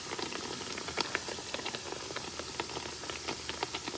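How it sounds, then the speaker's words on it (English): Puerto Rican arepas fry in hot oil, giving a continuous soft bubbling hiss sprinkled with small crackling pops, heard close up and alone. "You have to let them fry,"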